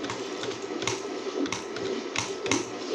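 A Corsair computer keyboard is typed on in quick, busy bursts of tactile key clicks and clacks, close and continuous, with occasional louder thumps from heavier keystrokes.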